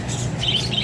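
A rare bird chirping in an aviary, with short bright tweets repeating over a steady low background hum.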